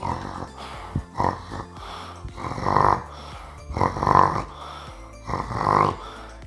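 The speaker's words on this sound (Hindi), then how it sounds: "जब भी ये खर्राटे खींचता रहता है" Loud, rhythmic human snoring close by, linked to sleep apnea, three or four rasping breaths at a steady pace with quieter pauses between them.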